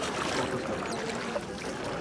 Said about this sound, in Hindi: तो ले जी ये बोट अब चल चुकी है, स्टार्ट हो चुकी है